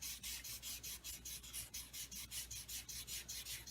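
Alcohol markers scribble on paper with a quick, steady back-and-forth rubbing rasp, close and fairly quiet, about four strokes per second.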